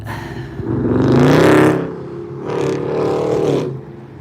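A car engine roars close by in two swells, rising and fading as vehicles pass, with no talking.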